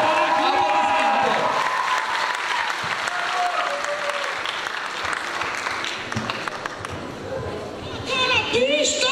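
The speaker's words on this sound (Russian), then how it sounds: "Аплодисменты." Audience at a KVN comedy club show in Taraclia bursts into loud, sustained applause with cheers and whoops, the dense clapping filling the hall as a voice calls out over it.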